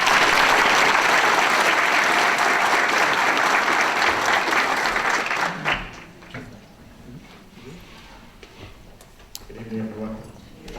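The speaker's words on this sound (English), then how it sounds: "Round of applause for Mr." Banquet audience applauding a speaker being introduced at an awards dinner: loud, dense clapping for about six seconds, then it stops abruptly, leaving room noise and a faint voice starting near the end.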